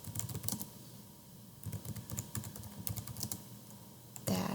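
Quick, uneven bursts of clicking keystrokes on a computer keyboard as a Linux command is typed, close and quiet, with short pauses between runs of keys and a louder tap at the end.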